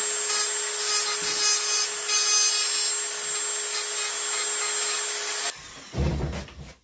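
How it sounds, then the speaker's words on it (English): A Dremel rotary tool grinds out the eye sockets of a muskie fish mount, a steady high-pitched whine held for several seconds before it cuts off, followed by a brief rubbing scrape. "We're going to Dremel the eyes out."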